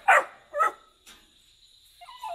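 A happy pet dog at its kennel gives a few short, loud barks up close, then a softer yelp and faint whining.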